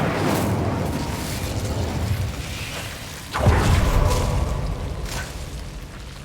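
Incendio fire spell from the Hogwarts Legacy video game: a sustained roaring, crackling flame burst with a sharper whooshing surge midway, loud and close, with no talking over it.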